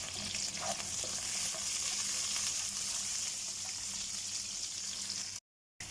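Chili peppers go into a hot pan for an eggplant dish cooked in coconut milk, giving a steady, bright, close sizzle that holds evenly throughout.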